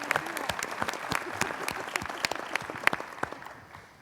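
Sustained applause from a convention audience welcoming a new executive director, dense steady clapping with a few louder individual claps, fading slightly toward the end.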